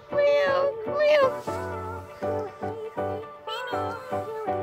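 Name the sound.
cat meowing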